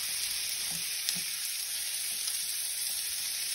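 Onions sauté in a pan for shrimp jambalaya, a steady close hiss of frying with a few faint clicks of a utensil underneath, unbroken and even.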